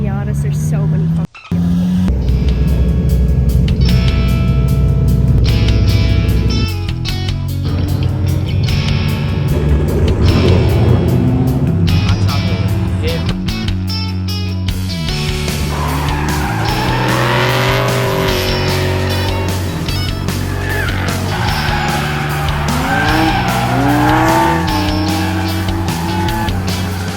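Cars drifting at a grassroots drift event where many Miatas are gathered; loud engines rev and wail with rising and falling pitch, tires squeal and skid continuously, and voices talk over the roar.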